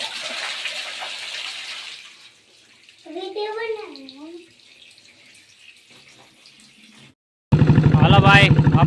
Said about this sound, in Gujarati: આ રીતના પ્રેશર આવે પાણીમાં જોઈ શકો.